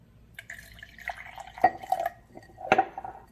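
Apple cider vinegar and lemon juice being stirred into a cup of lukewarm water, giving a few soft clinks and liquid swishes, quiet and sparse, with no talking.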